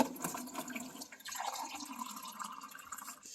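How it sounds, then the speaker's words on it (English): Water from a tap or jug is poured into a clean cup, a short trickling fill with a rising tone, heard close and fairly quiet. "I'm going to get some water."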